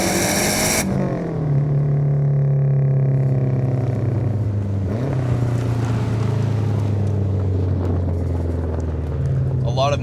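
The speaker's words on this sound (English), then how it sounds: "when you put a turbo on a Boxer 4 and put a nice aftermarket exhaust, it is one of the best sounding 4-cylinders I think you can get." A JDM Subaru Legacy B4 with a turbocharged boxer four-cylinder and aftermarket exhaust revs hard, a loud, close engine note rising in pitch through gears, with a brief shift dip midway, heard alone.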